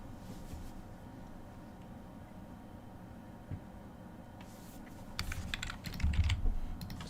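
A computer keyboard clicks and clacks at a desk during live futures trading. Faint, sparse taps over a quiet hum give way to a louder, rapid cluster of keystrokes near the end.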